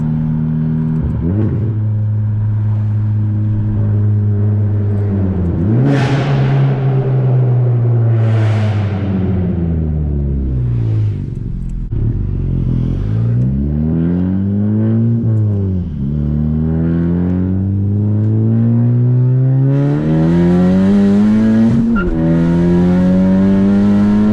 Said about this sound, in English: for any of you guys wondering how loud this exhaust is